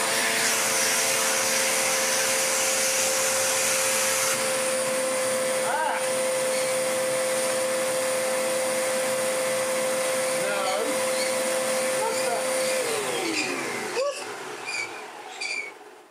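A refurbished secondhand Hoover Enigma vacuum cleaner runs steadily and loudly for the whole stretch, its motor whine shifting in pitch as it is moved, with a few squeaks before it begins winding down near the end.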